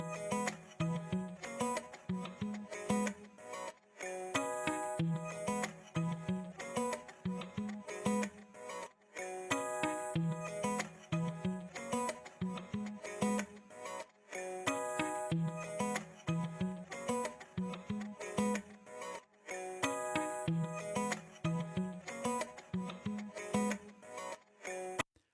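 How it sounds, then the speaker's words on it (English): A looping guitar riff plays alone, choppy rhythmic strums repeating in a steady pattern with brief gaps between phrases. "let's just hear the guitar loop that we're working with"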